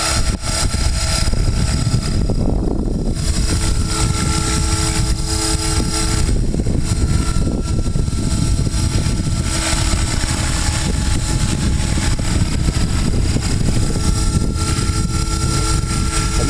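A T-REX 500 RC helicopter flies nearby, its motor and rotor whining loudly and steadily without a break, the pitch shifting slightly as it maneuvers.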